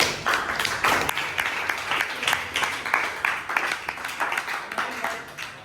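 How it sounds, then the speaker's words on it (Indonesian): Applause from a classroom of students, a steady crowd of clapping hands with slightly rhythmic swells, sustained and moderately loud throughout without talk. "Jadi tepuk tangan kita semuanya."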